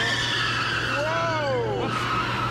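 Car tires squeal briefly through a turn, a rising and falling screech over a steady engine drone inside the vehicle.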